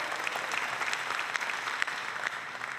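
An audience at the American Legion Auxiliary National Convention opening session applauds in a dense, steady wash of clapping heard from within the hall.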